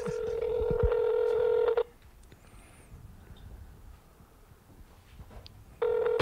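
A telephone line plays call tones before a call connects: two long, steady electronic tone bursts separated by several seconds of near-silence.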